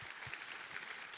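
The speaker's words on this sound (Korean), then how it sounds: "우리 하나님께 감사와 영광의 박수 올려드리겠습니다" A church congregation at a Sunday worship service applauds, a brief, soft wash of many hands clapping together, heard from a distance and fairly faint.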